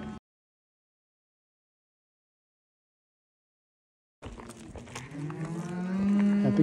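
Cattle bring the herd back home: a brief sound at the start, then a long silence before a loud, drawn-out moo rises and swells close by.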